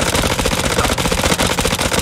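Gunfire in the horror video game House of Ashes, with rockets striking a helicopter: a dense, continuous loud barrage of shots and blasts filling the whole stretch without pause.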